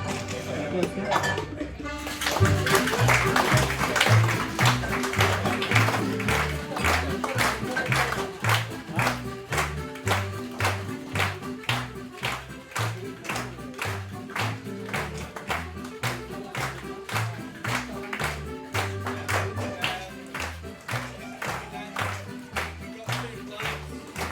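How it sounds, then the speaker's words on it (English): Audience clapping along in steady rhythm while a bartender shakes a cocktail at a Loch Ness Martini show aboard the Sun Princess cruise ship, with metallic shaker rattles and clinks, continuous and fairly loud for the whole stretch. "During the show, during shaking, who doesn't clap, doesn't drink."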